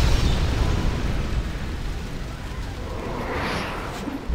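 A loud explosion in the online action game Blade and Soul, a dense low boom that rumbles on for several seconds with a brighter crackling burst toward the end, no voices.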